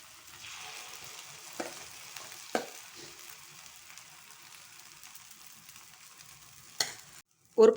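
Egg paniyaram batter frying in a little oil on a hot pan gives a soft close sizzle, broken by a few sharp scraping and stirring clicks and a brief louder clatter at the end.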